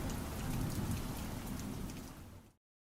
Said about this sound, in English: As the storms roll by,